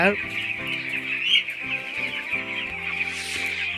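Broiler chickens on a farm cluck and chirp in a busy flock, short repeated calls overlapping close by, while someone talks over them.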